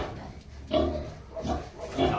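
Piglet grunting close by, a few low rough grunts in short bursts, with no talk over them.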